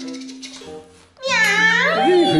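A person imitates a cat's meow with a drawn-out, wavering, nasal vocal cry, loud and close, after a brief quieter stretch of background voice.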